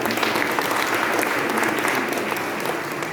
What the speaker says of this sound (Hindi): और ताली बजाएंगे।